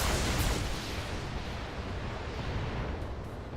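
LRM missiles launch in the BattleTech game as a rumbling, booming roar that hits hardest at the start and then stays as a sustained noisy wash.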